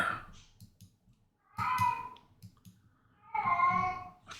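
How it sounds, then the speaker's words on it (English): A house cat meows in two drawn-out calls, fairly close and clear, separated by quiet stretches with small clicks and soft background noise. "Crazy cat in the background."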